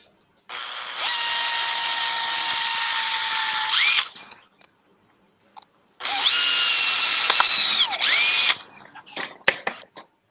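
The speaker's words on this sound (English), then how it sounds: "Getting my handy dandy drill gun. Let's drill away." A power drill whines loudly in two long bursts of about three seconds each while drilling a 1/6-scale Nieuport 17 model, separated by a quiet pause, ending with a few faint clicks and knocks.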